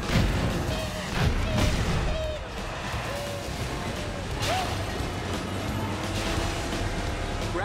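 Rockets firing in the racing video game Cars 3: Driven to Win, with several loud booming blasts over continuous engine roar and game sounds, steady and dense throughout.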